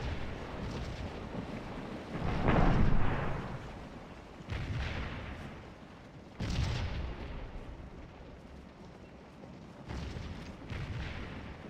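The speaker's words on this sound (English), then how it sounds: "They're going to take some nasty cannon fire on the way in." Cannon fire in the Civil War game Scourge of War: Antietam, a series of deep booming artillery blasts with rolling echoes, a large one early and several more spaced a few seconds apart, fairly distant.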